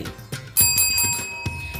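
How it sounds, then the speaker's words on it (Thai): A bright bicycle-style bell rings twice in quick succession as a subscribe-bell sound effect, clear and close, with its shimmering tone lingering briefly between rings. "อย่าลืมกดกระดิ่งกริ๊งๆ นะคะ"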